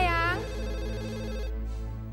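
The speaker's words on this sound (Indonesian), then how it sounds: "Tolong angkat telepon ya" A telephone rings indoors in an Indonesian TV drama scene: one sharp electronic trill at the start, then a sustained tonal hum beneath, fairly loud and alone without talk.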